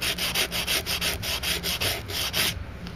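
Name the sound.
sanding Super Nintendo cartridge contacts with steel wool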